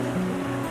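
Ocean waves wash and churn around a boat in Alaska, a close, steady rush of water over a low rumble, brief and unbroken.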